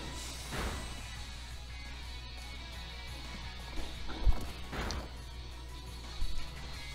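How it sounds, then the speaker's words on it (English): A Gust attack in the video game Pokémon Sword and Shield: two short, airy whooshes of battle effect several seconds apart, with a brief thump between them, over a quiet steady game background. "One more gust ought to do it."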